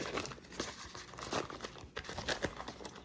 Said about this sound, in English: I'm gonna go ahead and unwrap them so you can see it.